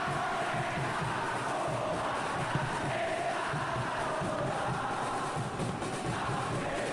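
Football stadium crowd roaring and cheering in a dense, continuous wash of noise, steady and loud throughout with no clear chant rhythm standing out.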